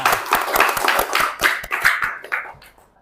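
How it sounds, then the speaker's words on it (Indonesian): A classroom of vocational students claps together, a busy burst of quick, overlapping hand claps that fades out toward the end. "Tepuk tangan buat kita semua."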